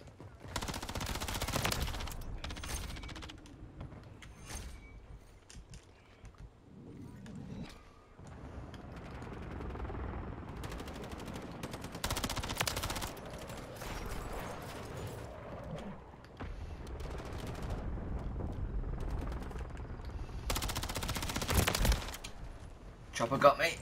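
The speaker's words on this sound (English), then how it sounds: "that chopper gun is really making it difficult for me to get outside" A helicopter chopper gun fires in Modern Warfare 3 during a Domination match on the Skidrow map, rattling off several sharp bursts between quieter stretches of game noise.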